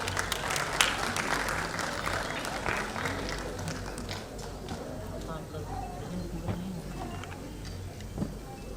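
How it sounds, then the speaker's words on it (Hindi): Applause from the audience at the Dadasaheb Phalke Award 2017 ceremony as an award winner, Shri Gopal Sinha, takes the stage. Steady clapping fills the room under a busy, reverberant hall background with scattered sharper claps throughout. "जोरदार तालियों के साथ"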